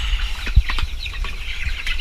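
Hungry chickens cluck close by at feeding time on a farm, giving short irregular calls with a soft flutter of movement and no talk.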